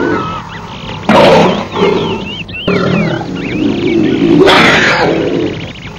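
A tiger roars in a forest animal scene for young children: two loud, rough roars, one near the start and one near the end, over steady jungle birdsong and chirping.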